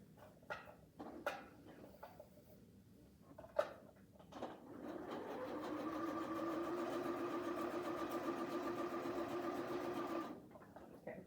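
A sewing machine stitching pillow cover fabric: a few clicks and handling knocks first, then the motor whirs up into a steady, close, continuous run for several seconds before stopping, with no talk.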